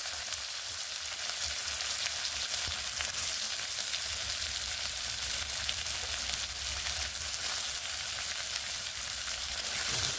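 Onions fry and get stirred in hot oil with whole spices while cooking toward light brown for a bean curry, making a steady, dense sizzle throughout with faint scraping stirs, close and continuous, no talking.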